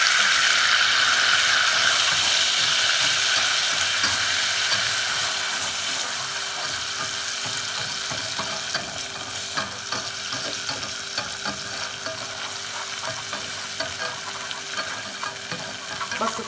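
Flour and butter are stirred together in a hot pan, a continuous close sizzle with soft scraping and stirring that eases slightly in volume over time, no speech.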